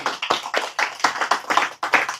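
An audience at a religious study gathering claps hands together in quick rhythmic bursts, close and fairly loud, with no speech over them.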